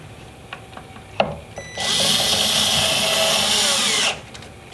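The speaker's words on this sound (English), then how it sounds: "hold this up, snug up the screws, and then put one in the top so it can't come apart" Power drill driving screws while assembling a wall pantry cabinet, a few light knocks and taps, then a loud sustained high whine of the drill for about two seconds before it stops.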